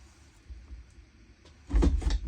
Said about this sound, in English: There's usually some in this drawer beside me.